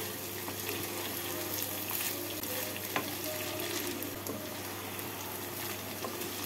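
Raw soaked rice frying in a pan for paneer pulao gives a steady, dense sizzle with light stirring scrapes, close and continuous, without talk.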